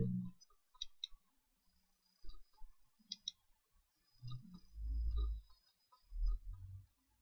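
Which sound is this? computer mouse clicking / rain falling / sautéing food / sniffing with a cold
computer mouse clicking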